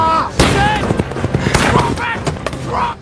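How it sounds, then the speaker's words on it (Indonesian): Several gunshots in a cowboy film, sharp loud cracks spread irregularly across a few seconds amid shouting voices and scuffling. "Peluru Gilbert mendarat ke satu orang polisi yang mengakibatkannya langsung tewas di tempat"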